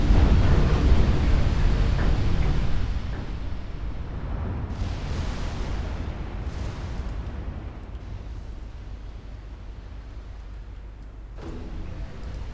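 Deep, rumbling booms and broadband blasts of naval gunfire and ships taking hits in a 1947-era naval strategy game, loud at first and settling into a sustained low roar with a few fainter later bursts.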